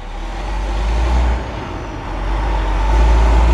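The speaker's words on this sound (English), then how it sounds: "We have a big old truck going by right now, and it is carrying logs." A big truck loaded with logs driving past outdoors, a deep rumbling engine that rises and swells as it passes nearby, loud and steady with no talk.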